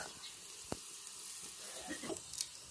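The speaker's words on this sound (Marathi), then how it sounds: "हे पहा, आपल्या तेलाला आता उकळी फुटलेली आहे।" Oil heating in a pan for a garlic tempering while cooking dill greens, giving a faint, steady sizzle with a single sharp crackle and a few soft pops near the end.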